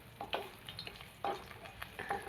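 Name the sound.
dried Bombay duck fish frying in oil for eggplant curry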